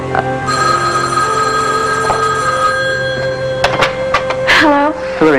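A 1984 soap opera telephone rings with a sustained electric bell tone for several seconds, then gives way to short bursts of activity and a voice near the end.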